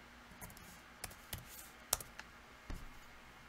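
Quiet typing on a computer keyboard, a handful of separate key clicks with irregular spacing and no voices, heard close up.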